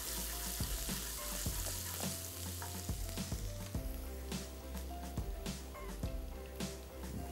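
Food sizzles steadily in a pan on a home stove, with a rhythmic series of thumps and scrapes from stirring running through the continuous frying hiss.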